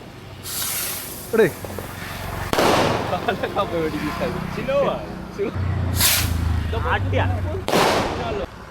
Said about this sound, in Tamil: வெடிக்கும் போது வான வெடி வெடிக்க போறாரு